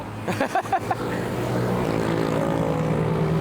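Sport motorcycle engine, such as a GSX-S1000, ZX-6R or Ninja 1000SX on a group ride, pulls hard with a deep, strong-torque drone. It follows a few short mechanical bursts and holds steady and loud near the rider.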